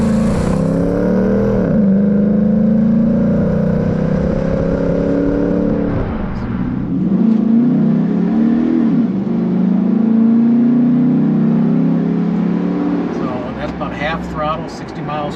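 The 6.0L V8 of a 2006 Chevrolet SSR pulls hard on a test drive. A loud, deep engine drone rises in pitch, shifts, then climbs again, with road hum underneath and talking near the end.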